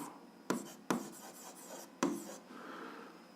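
A pen writes on paper during an algebra lesson, quiet close scratching strokes with a few sharp taps as the tip meets the page.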